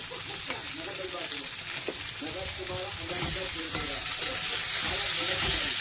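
Chili powder, coriander powder and salt frying in a pan, a steady close sizzle that grows louder partway through, with some indistinct voice-like murmur underneath.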